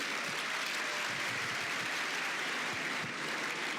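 An audience applauds at a university academic open day, producing a dense, continuous wash of clapping from many hands at moderate loudness that holds steady throughout.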